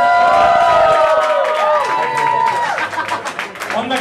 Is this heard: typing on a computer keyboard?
no